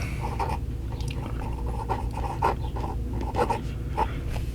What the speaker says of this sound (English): you can hear that the nib is a little scratchy